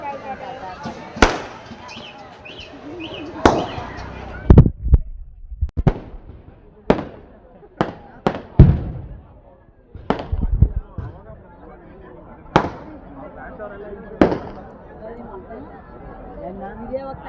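Firecrackers burst one after another at a village temple fair, at irregular intervals, sharp loud bangs, some in quick pairs, with voices chattering between them.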